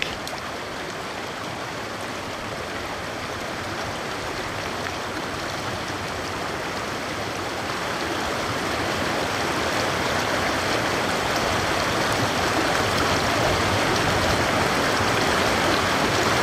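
A Norwegian mountain stream of fresh snowmelt rushes down the slope, a loud, continuous broadband roar of flowing water that swells slightly louder toward the end, with no voices.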